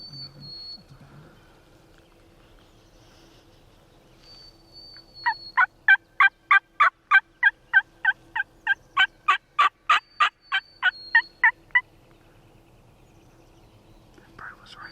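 A wild turkey gobbles during a spring hunt on public land in Washington: a fast, rattling burst of about six seconds with a high whistle-like tone before and after, set against quiet outdoor background.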